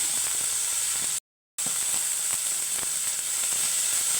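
Chinese spinach tossed into hot oil with fried mustard seeds and rice sizzles loudly and steadily at close range, with a brief moment of total silence partway through.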